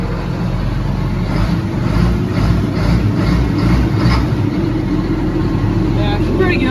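A farm tractor engine, cold-started, runs with a steady loud low rumble and diesel-like throb throughout, voices talking faintly underneath.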